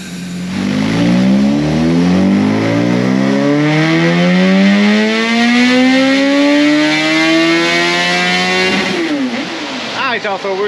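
A Gen 3 Suzuki Hayabusa motorcycle engine being tuned on a dyno revs steadily upward in one long, loud, rising pull, then drops off sharply and blips near the end.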